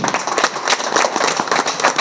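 Dense, continuous clapping from an audience, a steady patter of many hands close by.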